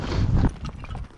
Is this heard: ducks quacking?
no